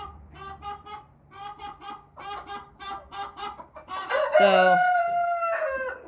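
American Bresse chickens cluck close by, ending in a loud, drawn-out rooster crow; a voice speaks briefly at the start.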